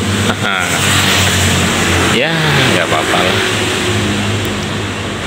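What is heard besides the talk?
old motorcycle engine revving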